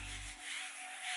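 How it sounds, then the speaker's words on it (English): A mini sponge scrubbing the surface of a luxury bag, a soft close rubbing swish that repeats in short strokes. "Scrub with the sponge and remove the dirt with a clean cloth."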